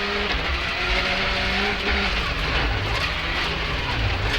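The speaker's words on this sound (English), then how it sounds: "we're on the brake, turn into the corner, and then back on the power all the way through the corner" A rally car, as driven by Colin McRae, braking into a corner and powering back through it on track, its engine a loud continuous roar with shifting tones from start to finish.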